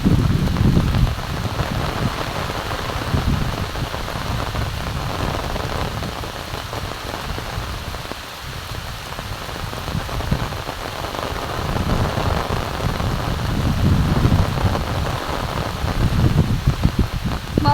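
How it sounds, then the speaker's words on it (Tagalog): Heavy typhoon rain pours down steadily in a dense roar, with low rumbles of thunder swelling at the start and again near the end. "Talaga naman pong malakas ang ulan."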